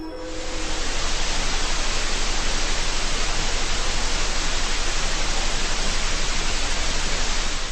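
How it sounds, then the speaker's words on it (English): Steady, loud hiss of broadband noise, rising in quickly and holding unchanged to the end. "there's some white noise added in."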